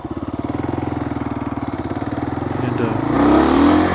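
A dual-sport motorcycle engine, a KLR 650 or DR 650, pulses close and steady, then revs up as a gear shift is missed; a voice talks faintly underneath.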